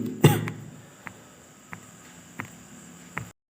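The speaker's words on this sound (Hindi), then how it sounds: "थोड़ी सी क्या है तबीयत की इशू है ना, इस वजह से थोड़ी खांसी आ जा रही" A teacher giving a physics lesson coughs once sharply and close, followed by several smaller clicks and throat sounds spaced about a second apart over quiet background hum.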